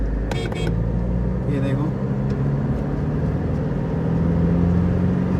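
A Toyota Fortuner fitted with a Land Cruiser kit, pulling in third gear as the turbo kicks in: a steady low engine drone heard from inside the cabin, with someone speaking over it.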